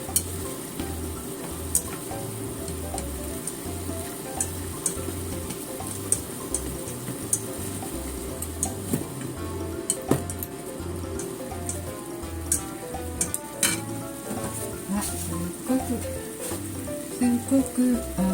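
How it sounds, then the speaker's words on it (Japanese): Freshly fried chicken tenderloin being stirred and tossed in a pan to coat it, with a steady sizzle and scraping stirs throughout, close and fairly loud. "今揚げたささみの肉を入れました。"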